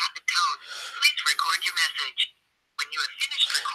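A phone call lands on a voicemail, and a thin, narrowband recorded greeting plays over the line, broken by a brief silent gap before the voice resumes.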